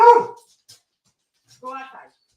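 A restless pet dog indoors lets out a short, sharp bark, then after a quiet pause gives a brief, high, tonal whimper.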